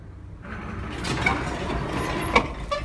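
An electric lift in Tbilisi, Georgia, moves with its machinery running, a low mechanical rumble and grinding that rises after a brief quiet start, with a few metallic clanks near the end.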